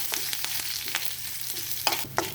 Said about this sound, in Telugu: పోపు వేగింది ఇప్పుడు కరివేపాకు వేసుకుందాం